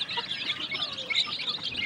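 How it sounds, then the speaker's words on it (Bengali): Farm chickens cluck and chirp continuously while pecking at wheat bran, a busy flock chorus with overlapping calls heard close by at a steady level. "তো তাদেরকে সব মুরগিকে আজকে সকালে একটু ভুসি দিলাম।"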